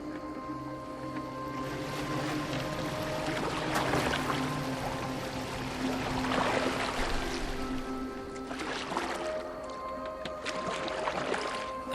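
A wooden boat sails across open water in the Assassin's Creed Valhalla video game, a steady, fairly loud wash of waves and splashing against the hull that continues throughout with no talk over it.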